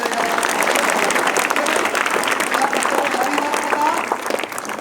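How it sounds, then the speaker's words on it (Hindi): Loud, dense applause from a crowd at a public school event, many people clapping continuously and evenly for schoolchildren, with faint voices mixed in. "जरा दो जोरदार तालियां इन बच्चों के लिए"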